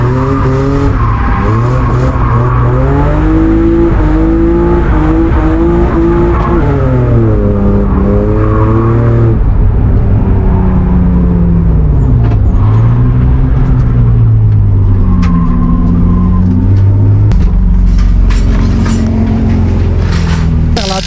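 A drift car at a drifting competition revs hard through a run, its engine note rising and falling repeatedly over about twenty seconds, loud and close, with tire squeal and skidding mixed in.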